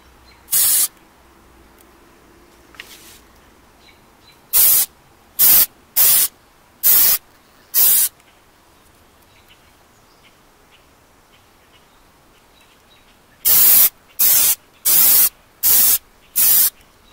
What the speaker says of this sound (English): hold it 6 to 8 inches away and spray it one way and then spray it the other way